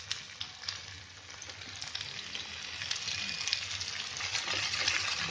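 Tomatoes frying in hot oil in a pan for a Marathi jackfruit seed gravy, a steady close sizzle with crackling spatter that grows slightly louder over the stretch, no voices.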